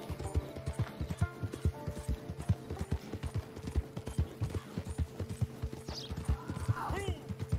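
Horse hooves beat in Red Dead Online in an even, steady clip-clop trot over a low ambient hum, close and prominent. A brief whinny-like sound rises near the end.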